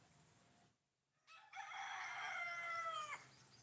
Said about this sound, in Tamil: கோழி கத்துறதெல்லாம் உங்களுக்கு சத்தமாக கேட்குது